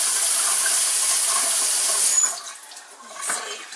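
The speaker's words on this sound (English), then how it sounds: "Now that I've washed the batter off myself" A kitchen tap runs as batter is washed off hands, a steady close hiss of flowing water that cuts off abruptly after about two seconds, followed by faint drips and handling sounds.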